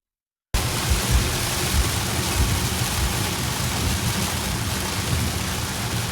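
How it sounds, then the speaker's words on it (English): Heavy rain pours down steadily outdoors, a dense continuous hiss that starts abruptly after a moment of silence and holds at an even loudness with no voices. "Y'all, it's raining hard."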